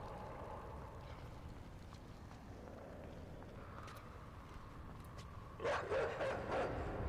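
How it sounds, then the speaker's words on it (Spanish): Dogs barking in the video game Inside: a short cluster of several barks near the end over a steady low rumbling background, moderately loud. "Perros, perros, perros, perros."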